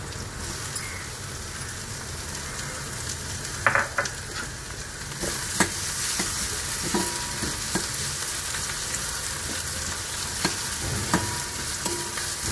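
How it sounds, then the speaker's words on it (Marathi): Onion and tomato fry in plenty of oil in a pan, giving a continuous crackling sizzle with scattered pops and occasional scrapes of stirring throughout. "कांदा थोडा परतला ना, जास्त पण करपला तर मग तो कडू कडू लागतो"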